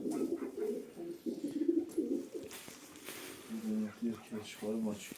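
Two male pigeons coo in repeated low, throaty bursts close by, pausing between phrases, while someone speaks at times over them.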